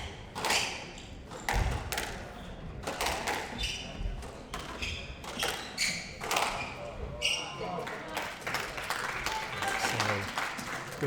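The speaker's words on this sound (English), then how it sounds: "The Malaysian contingent in the crowd with polite applause" Polite applause ripples through the crowd at a professional squash match, steady scattered clapping running throughout with sharp ball thuds and court knocks punctuating it and commentators talking over the top.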